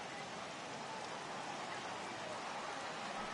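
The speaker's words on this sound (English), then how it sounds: "the rain starting to intensify here. It's coming down a little heavier now." Rain in a PS4 baseball video game falls as a steady, dense hiss of downpour, fairly faint and unchanging, with no clear speech over it.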